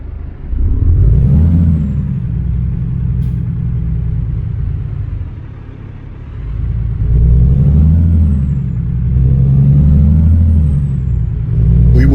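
A heavy truck engine in a driving game (American Truck Simulator) rumbles steadily, dipping briefly then swelling again as it revs, with a deep low drone throughout and no voices.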